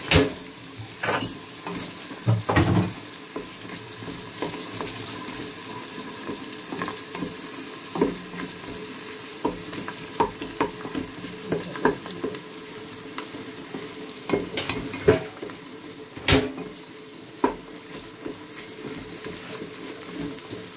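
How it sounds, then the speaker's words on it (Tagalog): A spoon scrapes and clatters through biryani frying in a pan, irregular stirring knocks and scrapes over a steady low sizzle, close and alone without talk. "Halo-halo natin."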